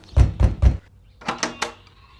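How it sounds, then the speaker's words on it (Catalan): Knocking on a wooden door: three firm, evenly spaced knocks, then after a short pause three lighter, sharper raps, close and with no voices. "Va picar a la següent porta."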